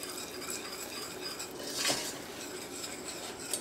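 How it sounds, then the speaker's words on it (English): Metal whisk scraping and clinking steadily against a pan as a smooth mixture is beaten before cream goes in, a continuous close tapping texture with a brief louder swell midway. "I'm going to keep whisking until I get a really, really nice, smooth mixture here"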